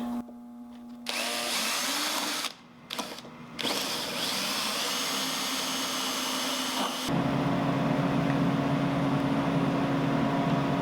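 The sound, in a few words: drilling into driftwood with a 3/16 inch drill bit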